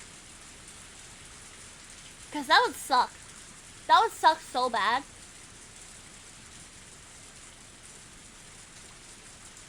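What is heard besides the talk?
fierce rain falling, from the Higurashi video game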